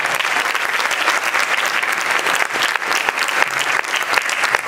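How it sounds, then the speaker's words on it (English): Sustained applause from a school sports awards ceremony audience, honoring the first freshman team; dense, steady clapping at close range throughout, with no one speaking over it. "please give a round of applause to the freshmen"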